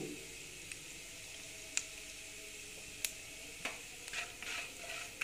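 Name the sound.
mustard seeds and asafoetida frying in oil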